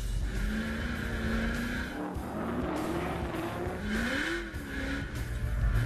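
A 600-horsepower hand-controlled race car drifting on a track, with a loud engine whose pitch rises and falls and long tire squeals that come and go.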